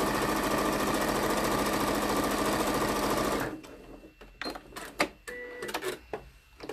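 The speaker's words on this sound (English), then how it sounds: "Turn the corner and stitch the rest of the seam." Sewing machine stitching the remainder of a seam on a pocket, a steady loud mechanical whirr for about three and a half seconds that stops abruptly, followed by faint scattered clicks and handling noises.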